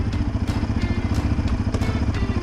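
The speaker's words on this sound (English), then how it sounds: "Press down the clutch, go down into our first gear." Yamaha Raptor 700R ATV engine idling close by with a rough, pulsing single-cylinder chug and a few light clicks as it is shifted into first gear, no voices.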